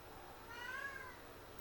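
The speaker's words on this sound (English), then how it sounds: "I got a kitty here that says that he's hungry" A hungry cat gives a single short meow close by, rising briefly above a quiet room hum.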